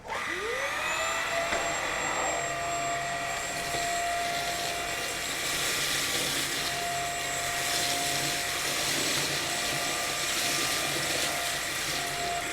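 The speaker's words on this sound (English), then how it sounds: "And lastly, for the floor test, the Bissell CleanView XR PET." Bissell CleanView XR Pet upright vacuum cleaner running in a floor test, a loud steady motor whine with a rising tone as it spins up, then a constant close, even drone throughout.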